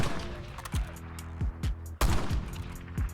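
Rapid reload-and-fire fade trick in Black Ops 6 gameplay: a string of sharp gunshots, several crisp reports spaced irregularly with a heavier burst in the middle, loud and close with no talking.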